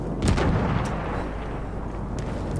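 Distant gunfire in the video game Battlefield 1 booms over a steady low rumble, with a few dull shots spaced through the scene.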